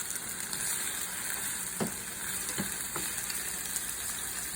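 Ground turkey and eggplant sizzle steadily in a hot pan while being stirred and folded, with a few soft utensil scrapes breaking through the continuous frying hiss; no talking.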